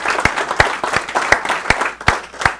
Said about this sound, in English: So we'll round of applause for our top team listings.